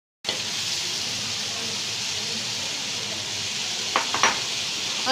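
Capsicum frying in a pan with chili flakes, dried coriander and cumin, a loud continuous sizzle close by, with a few sharp utensil clinks near the end.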